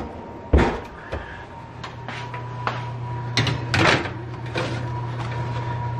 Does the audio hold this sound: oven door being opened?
yes